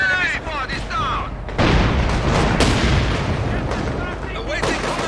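Mortar shells and explosions in a war video game thump and boom in a dense barrage, loud and close, with radio-style voices talking over the battle noise.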